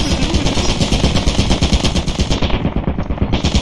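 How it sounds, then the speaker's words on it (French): A turret in the Lethal Company video game fires a rapid, loud, continuous automatic burst, each shot close and evenly spaced, with no talk over it. "Il y a une tourelle, faites gaffe."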